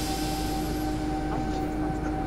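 A Class 91 electric train braking in the Train Sim World video game on the East Coast Main Line: steady rumbling with a sustained metallic whine and tonal hum, like brakes squealing, continuous and fairly close.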